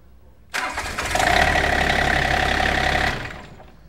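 A diesel engine cranks and catches after its glow plugs have preheated, then settles into a steady, loud, close idle with a low rumble that holds for a few seconds before cutting off.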